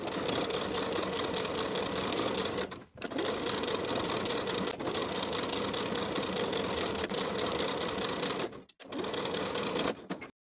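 A sewing machine attaches a waistband to a dress bodice in several fast, continuous bursts with brief stops between them, its dense needle clatter loud and close throughout.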